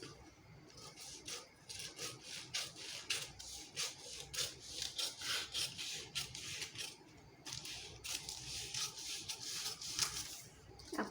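Scissors snip rhythmically through paper while cutting a three-tuck blouse pattern, a run of close, crisp cuts and rustles with short pauses between strokes, and no talking over them.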